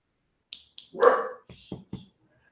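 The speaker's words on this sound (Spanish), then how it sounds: "Escuchó mi chucho y hasta él está ladrando." A dog barks several times up close, short sharp yips mixed with one longer, drawn-out bark, separated by silence.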